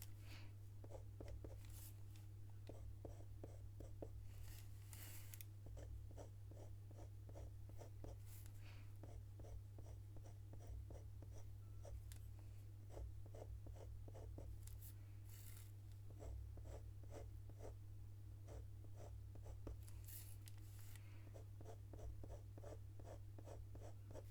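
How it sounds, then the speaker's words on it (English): A coloured pencil scratches firmly across toothy paper while a robin is drawn, giving repeated short rhythmic strokes in bursts with brief pauses over a low steady hum, close and quiet. "it sounds like I'm pressing hard because of the tooth of the paper that's still available"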